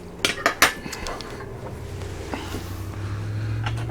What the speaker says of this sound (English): Fork tender, cut it with a butter knife.